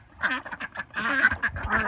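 Ducks, a white one among them, quack beside a tub being filled with water: a rapid run of loud, close, nasal quacks in short irregular bursts.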